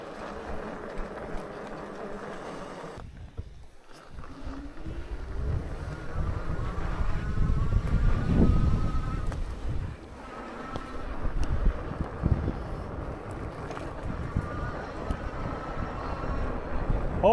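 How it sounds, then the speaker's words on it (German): Strong gusts buffet a microphone outdoors, a rough low rumble that swells and fades in waves, briefly dropping out near the start and peaking in the middle. "Oh, sehr windig hier."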